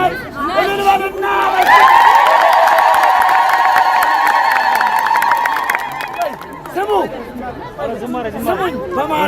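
A crowd at a public religious gathering in Piassa lets out a loud, sustained, high trilling ululation lasting several seconds over cheering and shouting, followed by excited voices.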